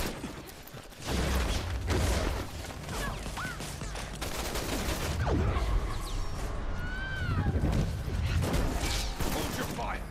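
Gunfire in the Resident Evil 6 video game, a rattling fusillade of shots mixed with mechanical clanks and creaks over a steady dense background, with voices speaking partway through.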